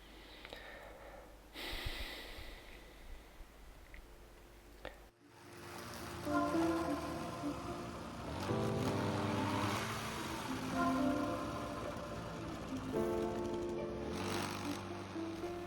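A brush cutter fitted with a chain head starts up after a few seconds of quiet, then its small engine runs at full throttle with a loud, sustained whine that rises and holds, heard up close.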